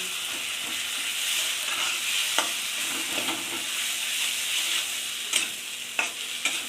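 Drumstick leaves and flowers fry in a pan with a constant sizzle, broken by several sharp scrapes and taps as they are stirred.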